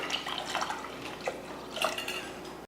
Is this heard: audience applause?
no